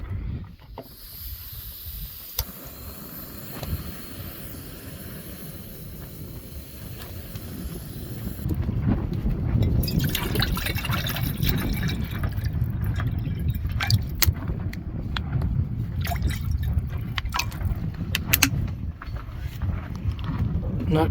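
Steady rushing water pours from a tap, loud and close, after a quieter stretch with faint background noise, while camping at Apache Lake.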